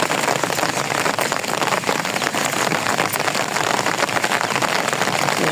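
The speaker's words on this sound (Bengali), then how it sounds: "ওই বাবা, কি বৃষ্টি হচ্ছে।" Heavy rain pours down loudly and without a break, a dense, close hiss of drops drumming on surfaces with no voices present.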